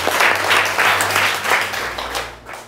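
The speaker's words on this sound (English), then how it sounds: "Clap for yourselves." Upper primary students applaud themselves in a classroom, a steady wash of group clapping with a low hum underneath, fairly loud and fading slightly toward the end.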